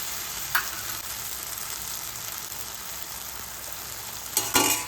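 Tomato chutney with onion, garlic, chili and crushed peanut powder stirred in a hot pan, a steady soft sizzle with brief scraping accents near the start and end.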